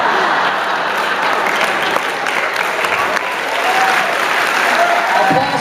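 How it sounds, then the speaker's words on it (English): A stand-up comedy showcase crowd breaks into sustained applause, a dense wash of clapping that stays loud and even, with faint voices mixed in. "Applause for my grandmother"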